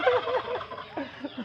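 A flock of turkeys gobbles in overlapping warbling calls nearby, brief and busy with several birds sounding at once.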